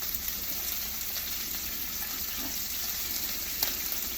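A single steak frying in hot oil in a pan gives off a steady, continuous sizzle and crackle, fairly close and even in loudness throughout, with no voices over it.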